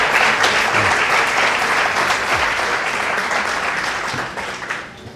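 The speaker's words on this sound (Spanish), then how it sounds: "Le vamos a dar un fuerte aplauso." Audience at a talk on inclusive language bursts into loud, sustained applause, dense clapping that holds steady and then fades toward the end.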